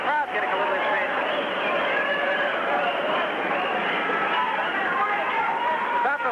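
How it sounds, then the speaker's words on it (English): Restless boxing crowd murmuring steadily throughout a WBC junior middleweight bout between Wilfred Benitez and Carlos Santos, a dense continuous babble of many voices in an arena. "Crowd getting a little impatient."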